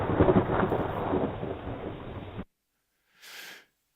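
Thunder from a lightning strike in a field during a thunderstorm, a loud rolling rumble that cuts off abruptly, followed after a pause by a brief softer burst of crackling noise.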